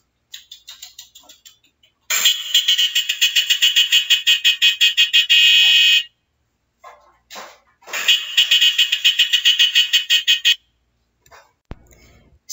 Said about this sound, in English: Let's hear with me the sound of beep.